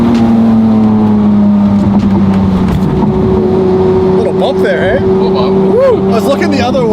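A Porsche GT3 engine roars loudly as it downshifts, with its pitch stepping and blipping across the gear changes under excited talking.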